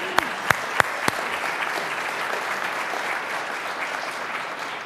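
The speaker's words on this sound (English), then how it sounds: "we should applaud for that" Crowd applause at a 2018 State of the City address: a few sharp, close claps open into steady, sustained clapping from a large audience that carries on evenly to the end.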